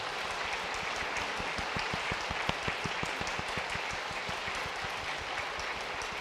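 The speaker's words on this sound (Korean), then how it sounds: "우리 박수로 환영하도록 하겠습니다" A church congregation claps during a Sunday service to welcome first-time visitors, a fairly soft, steady patter of many hands with a few sharper claps standing out, heard from some distance.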